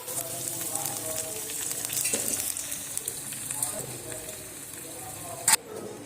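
Cut potatoes sizzle steadily in hot oil alongside browned onions in a Bengali potato curry, a soft continuous crackle with occasional stirring clinks and one sharp knock near the end.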